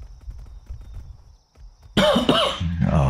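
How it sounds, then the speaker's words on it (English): Harsh, loud coughing bursts in close up, two or three rough hacks in quick succession, following a quieter stretch of soft game sounds and footsteps. "I ain't gonna be able to stop that coughing"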